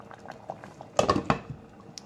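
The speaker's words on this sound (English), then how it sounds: "there is the lamb stew cooking" A pot of lamb stew bubbles close by with soft wet pops and gurgles, including a louder cluster of bursts partway through.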